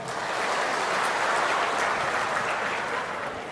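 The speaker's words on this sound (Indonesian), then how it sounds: "Tepuk tangan untuk kita semuanya." An audience at Indonesia's 2024 national working meeting of the land ministry (ATR/BPN) claps in a dense, even wash of applause that holds steady for the full few seconds.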